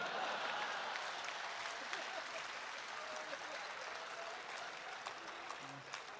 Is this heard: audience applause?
yes